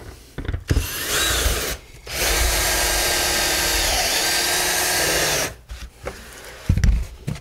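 A power drill drives screws into the cover of an American Solartechnics heat bank, with two short bursts, then one long steady whine of about three and a half seconds, and a brief final spin, all close and loud.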